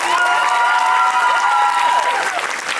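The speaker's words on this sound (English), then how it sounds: "on peut encore les applaudir très fort." An audience at a high school senior-class concert applauds and cheers for the student singers and guitarist, sustained dense clapping with a few sustained tones over it, fading slightly at the end.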